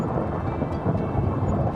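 A continuous heavy rumble of thunder just before a heavy downpour, loud and close, with no voices.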